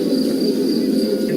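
Cicadas hum in the distance as a steady, continuous buzz that holds at an even level throughout, with a faint high drone above.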